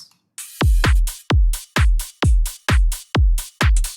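A complextro drum mix made in Ableton plays back with punchy, booming kicks and bright crashing hits in a steady, evenly spaced pattern of about eight heavy beats, loud and close, without speech.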